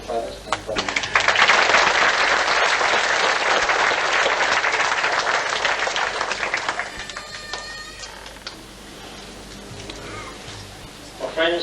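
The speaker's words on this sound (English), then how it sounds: "Friends, by your applause" A congregation at a Kingdom Hall meeting applauds after a slide presentation, dense clapping swelling quickly and then thinning into scattered claps before fading out.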